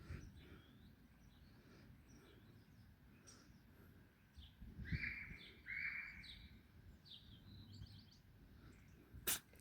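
A dog out on a springtime walk gives a single short, faint sneeze outdoors, with birds chirping softly around it and a quiet, steady outdoor background.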